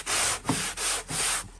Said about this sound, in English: then taking my block and I am sanding the two together